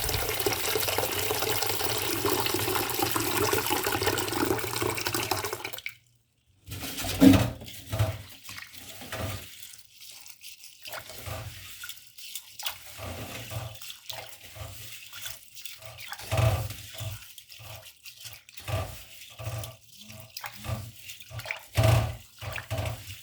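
Green gram lentils are washed in water, beginning with a steady rush of pouring water, then breaking into intermittent sloshing and swirling splashes as the grains are stirred and rubbed by hand.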